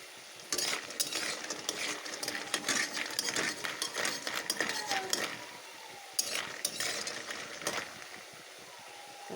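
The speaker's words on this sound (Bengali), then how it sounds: "এই দেখো লাল লাল করে বড়িগুলোকে আমি একটু ভেজে নেব।" Fish bori lentil dumplings frying in a pan: a soft sizzle under frequent clattering spatula strokes and metallic scrapes, fairly quiet, pausing briefly near the end.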